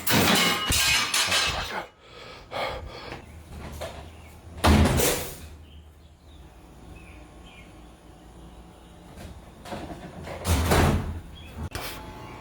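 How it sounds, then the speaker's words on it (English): A door swinging open on its own, with several loud scraping, sliding and thudding bursts separated by quieter stretches of room noise and faint chirps, fairly close, no talking. "That door just opened by itself."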